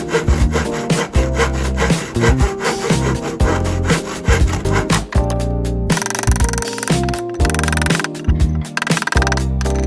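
A hand saw cuts through pallet wood in loud, rapid back-and-forth strokes close by, the rasping rhythm continuing steadily, with no talking.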